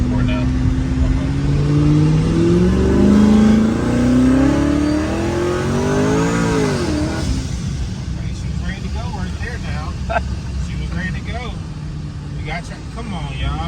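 A car accelerating hard in second gear, engine note climbing loudly through the revs for several seconds before easing off into a rough rumble, with people talking over it from inside.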